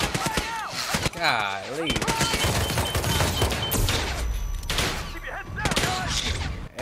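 Rapid gunfire in the video game Hitman 3, including pistol shots, rattling in repeated bursts across the scene, loud and close, while someone talks and exclaims over it.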